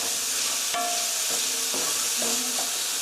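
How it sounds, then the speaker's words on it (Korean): Sugar is stirred into frying jajangmyeon sauce in a pan: a constant soft sizzle with a few scraping, clinking strokes of the utensil, close and steady, with no voices. "섞어주시고요."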